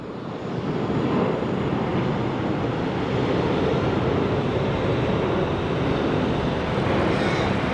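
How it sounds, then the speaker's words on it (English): A China Southern Airbus A330 airliner at Sydney Airport produces a steady, loud broadband engine roar that holds evenly throughout, with no speech over it. "China Southern A330."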